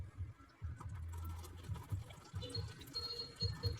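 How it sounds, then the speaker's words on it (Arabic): Water is poured into a breadcrumb dough mixture of yeast and oil, a soft close liquid gurgle and splash that runs steadily for a few seconds and stays fairly faint. "ونحط الميه"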